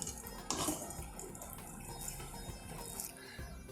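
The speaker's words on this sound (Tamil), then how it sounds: "ஒரு 1/2 கப்பு தண்ணி விடுறேன்." Water pours into a cup of jaggery for a sweet coconut rice, a soft continuous splashing trickle heard close by without any talk.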